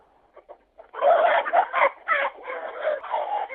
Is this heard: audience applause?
no